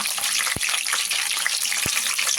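Curry leaves and green chillies frying in hot oil give a steady, close crackling sizzle, broken by two sharp taps.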